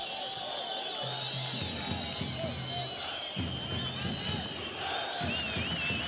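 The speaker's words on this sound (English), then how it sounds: "This is the loudest the crowd have been all night." Football stadium crowd roaring and chanting near the end of a World Cup qualifier between Sudan and Chad, a loud sustained wall of voices with rhythmic chant bursts throughout, no single speaker standing out.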